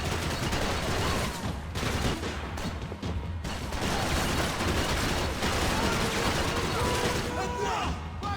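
Rapid bursts of gunfire in the third-person shooter Max Payne 3, loud and continuous with dense volleys and crashing impacts, while someone talks over the action.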